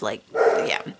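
A dog barking indoors in a neighborhood with mowing going on, a couple of short close barks mixed with a person talking briefly.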